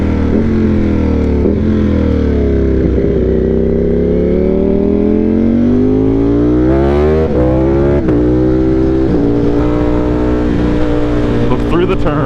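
A powerful production motorcycle engine in race mode revs and accelerates hard, its loud sweeping harmonics rising and shifting through gears steadily and close up, with no talk over it.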